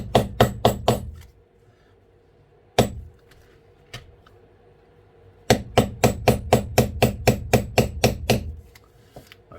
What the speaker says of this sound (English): we're going to spin around this one and get that part of the beveling done